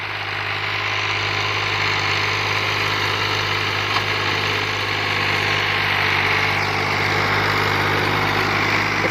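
A 2004 Fiat 480 tractor engine idles steadily with an even, continuous diesel drone and low harmonic hum, close and unchanging throughout with no talk.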